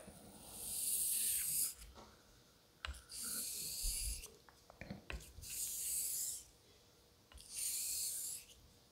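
A straight razor is honed with light, even pressure on a Tenju 8-9K whetstone, making four slow, soft rasping strokes in a steady rhythm with short quiet gaps, close and faint.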